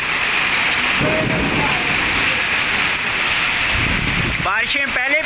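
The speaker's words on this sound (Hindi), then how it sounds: "ये देखें आप, शदीद किस्म की ज़ालाबारी" A severe hailstorm with heavy rain and thunder in Rawalpindi's Bahria Town brings a dense, steady roar of rain and hail with low rumbling swells, and a voice briefly speaks near the end.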